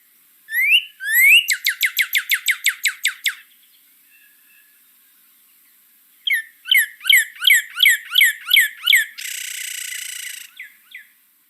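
A bird sings a recorded phrase of repeated whistles that starts slowly and speeds into a rapid ending, then repeats with fast chirps and a buzzy trill, clear and close with short silences between phrases.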